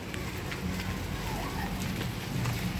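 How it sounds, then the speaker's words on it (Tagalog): Light rain falling outdoors at a bathing spot in Itogon, a soft continuous patter and hiss with faint scattered drops, steady throughout, with a voice briefly heard in the background. "Yan, medyo umuulan nga lang."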